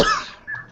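A single sharp cough bursts out at the start, followed by a shorter, softer second cough, close and clear.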